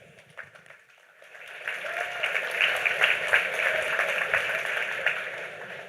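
Applause from a ProductCon audience welcoming a speaker starts faintly, then swells into a moderate, steady clapping that continues to the end, heard from a slight distance.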